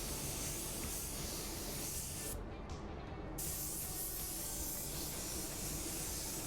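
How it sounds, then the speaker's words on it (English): A spray gun with its fan fully open and the fluid knob out four turns sprays gray metallic car paint at 16 psi, a loud continuous hiss with a brief pause midway. "I am spraying this at 16 psi."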